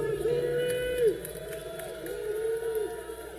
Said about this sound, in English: this crowd is really pumped, cheering her on.